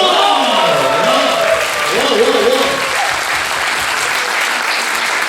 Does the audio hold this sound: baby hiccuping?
no